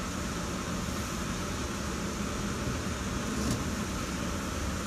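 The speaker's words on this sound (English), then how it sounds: "The noise going on in the background is air conditioning unit that I'm not supposed to turn off." A background air conditioning unit gives off a low, steady, faint hiss and hum, with nothing else heard.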